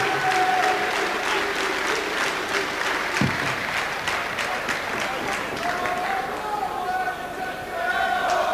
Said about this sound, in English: please show our appreciation for our visitor all the way from Belarus, Vadzim Astapuk